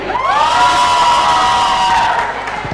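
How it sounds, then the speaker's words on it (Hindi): A studio audience cheering and whooping loudly, with excited shouts swelling together for a couple of seconds. "तो एक बार जोरदार तालियां"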